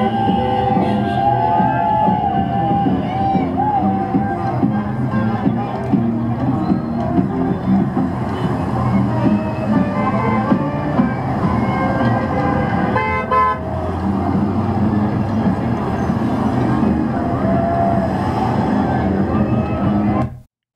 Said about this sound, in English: this video of the crowd gathered in the center of the city